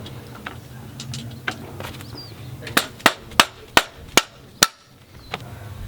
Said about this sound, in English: you might have to tap it into place to line up for the bolt